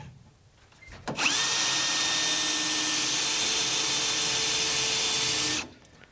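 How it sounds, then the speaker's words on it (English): A power drill bores into a Ford truck's firewall during a big-block engine swap. It spins up sharply after a second of quiet, runs as one loud, steady whine for about four and a half seconds, then stops abruptly. "Let's drill the first hole."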